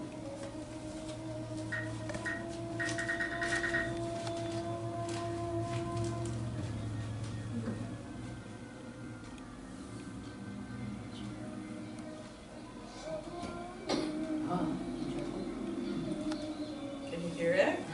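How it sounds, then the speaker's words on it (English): A morning call to prayer drifts over a hotel in Jaipur, a sustained chanting voice at middle distance, while birds chirp and call intermittently through steady ambient background noise. "It's the morning call to prayer. And the birds. And then there's a flute."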